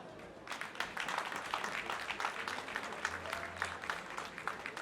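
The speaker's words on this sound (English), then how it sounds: "she deserves a better applause" Dense audience applause at a book launch, many hands clapping steadily for several seconds at a fairly quiet, distant level.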